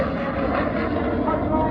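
Red Arrows jet aircraft roaring through an airshow display at Southport, a loud, steady broadband engine rush that fills the whole clip with slight swelling, while a commentator talks over it.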